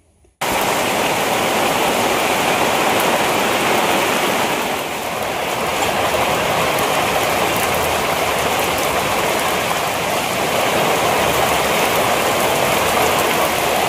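Heavy rain pours down in a dense, steady hiss that starts abruptly and continues unbroken and loud throughout, with no voices.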